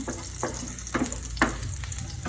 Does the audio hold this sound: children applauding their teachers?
no